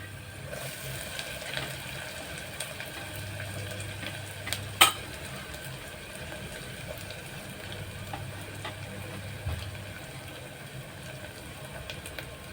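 Grated coconut stirred into a pan of fried cashews, almonds and raisins: a quiet, continuous low sizzle with soft scraping of a spoon, one or two light clinks, and no talking.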